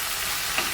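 Chicken with turmeric sizzles in a hot pan as it is stirred, a close, bright continuous hiss with a faint scrape partway through, brief and alone.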